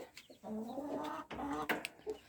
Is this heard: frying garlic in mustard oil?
no